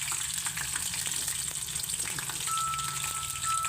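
Curry leaves, ginger and onion fry in a pan, making a steady, close sizzle that holds evenly for a few seconds with no voices.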